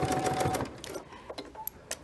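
A home sewing machine stitches binding onto a quilt in a short close burst, whirring at first and then slowing to a few separate mechanical clicks.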